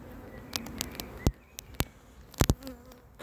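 A bee buzzes close to an open beehive, its faint drone broken by several sharp clicks and taps.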